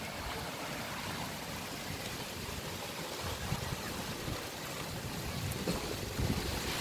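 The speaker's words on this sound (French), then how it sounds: "ça alterne entre la pluie normale et les grosses gouttes" Steady rain outdoors during a thunderstorm with strong wind gusts in Meyzieu, normal rainfall alternating with heavier big drops, a continuous close wash of noise with slight surges toward the end and no talking.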